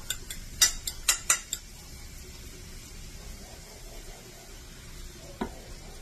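Zucchini omelette frying with egg, a soft continuous sizzle opening with a quick run of sharp utensil clicks against the pan, then a single knock near the end; no talking.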